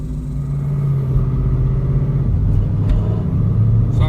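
A Ford Mustang fitted with a transbrake, two-step and boost controller drives up the road, its engine a steady, loud low rumble that stays close and even, with no talk over it.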